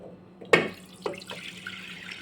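Water splashes into a metal pressure cooker holding lentils (dal) in a couple of short pours, with a sharp first splash, then softer trickling and gurgling.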